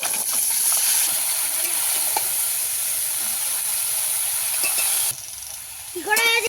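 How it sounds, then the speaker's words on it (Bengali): Cumin seeds hitting hot oil in a wok give a loud, steady hissing sizzle for about five seconds, then drop off sharply as a voice speaks briefly at the end. "জিরে ফোড়নে দিয়ে দেবো"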